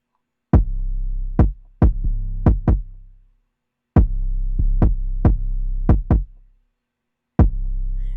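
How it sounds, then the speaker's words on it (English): An 808 bass and kick drum in a mix thump in sparse, irregular hits, each deep booming note sustaining briefly before the next, with short gaps of silence between phrases and no voices. "I typically mix my 808s lower than my kick."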